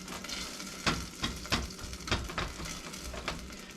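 Brown sugar and butter sizzle in a pan while cooking down for saltine cracker toffee, a steady close frying hiss broken by several louder bursts of crackle as the mixture is stirred.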